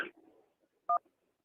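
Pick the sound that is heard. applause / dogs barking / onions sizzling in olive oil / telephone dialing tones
telephone dialing tones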